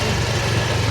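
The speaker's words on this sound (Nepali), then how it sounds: "बाइकमा एकदम आनन्दले हामी आइरहेका छौँ।" Motorbike engine running steadily while riding on a cold day in Gulmi district, Nepal; a loud, continuous low drone with no break and no talk over it.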